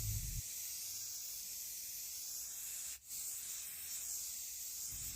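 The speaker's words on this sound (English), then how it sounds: "We're going to give these a coat of spray paint" A spray paint can hisses in a long, steady, airy stream over decorative mirrors, with one brief break midway before the spraying resumes.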